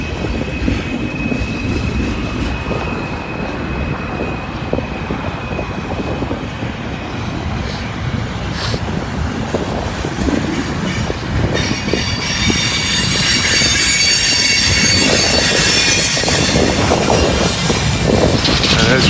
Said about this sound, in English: They'll let this train pass and then probably bring him on down.